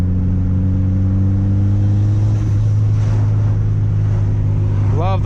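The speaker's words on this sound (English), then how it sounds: "Love the blow-off noises." A Mitsubishi Evo's engine drones loudly and steadily from inside the car, with a short whooshing release near the end like a turbo blow-off valve venting.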